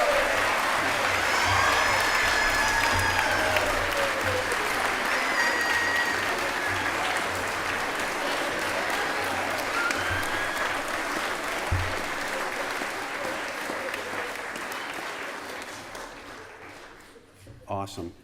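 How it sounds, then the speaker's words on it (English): Children in a chapel service give a long round of applause, a dense steady clatter of many small hands with cheers and whoops rising over it, fading near the end. "the big kids could give the little kids a big round of applause and make some noise"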